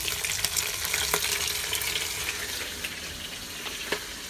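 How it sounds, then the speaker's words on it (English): Spices and the white part of green onion fry in a pot with browned pork, giving a continuous loud sizzle and crackle with a couple of sharp stirring knocks. "We're gonna put all this spice and fry them"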